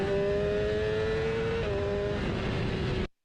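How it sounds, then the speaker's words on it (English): Motorcycle engine at full throttle on a racetrack straight with the injectors fully open, a steady loud high-pitched drone that shifts pitch once partway through, then cuts off abruptly. "the injectors are fully open when you get that second sort of noise coming up through the tank"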